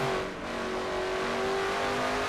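Race car engine in a sim racing series holds a loud, steady, buzzing drone under throttle as the car accelerates out of a turn. The tone climbs slowly and there is no talk over it.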